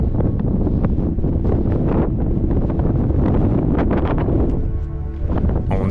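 Strong, continuous wind roars and buffets the microphone on a mountain peak in Montenegro's Black Mountains, loud and unbroken throughout.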